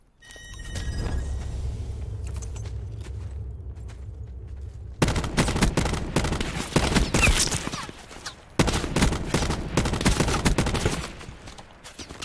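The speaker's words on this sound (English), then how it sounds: "Stop shooting me from up there, you weirdos!" Rapid automatic gunfire from the Call of Duty Blackout battle royale mode, loud and dense bursts crackling in long volleys with a brief pause midway, over steady in-game background rumble.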